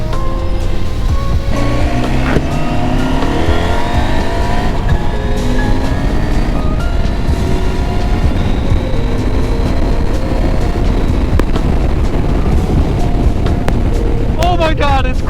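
A Husqvarna Norden 901 motorcycle engine revs and accelerates hard, its pitch repeatedly climbing through the gears up close, with a voice partly audible beneath the loud exhaust and wind.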